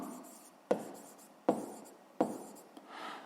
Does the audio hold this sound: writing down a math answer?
yes